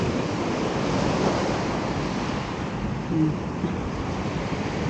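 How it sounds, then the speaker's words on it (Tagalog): Heavy surf roars continuously as large ocean waves break and wash ashore, with a broad rushing sound and some wind buffeting the microphone. "medyo malalaki na yung mga alon"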